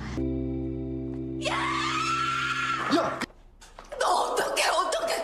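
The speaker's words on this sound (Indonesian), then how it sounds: "Tak tahan mendengarnya, si Eunye pun berteriak." A woman in a Korean drama scene lets out a long, loud, sustained scream over a low musical drone, followed by a sharp commotion and clatter.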